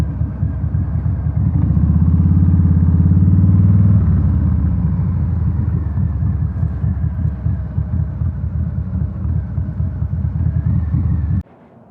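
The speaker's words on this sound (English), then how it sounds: "This guy's doing burnouts." A motorcycle engine roars loudly and steadily nearby, revving hard in a sustained burnout with a rough, clattering rumble that swells early, then holds before cutting off abruptly near the end.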